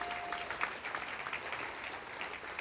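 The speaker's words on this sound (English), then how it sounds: "You can clap for these incredible people." A church audience claps for life group leaders called up to the front, steady dense applause from a sizeable crowd that holds at an even level throughout.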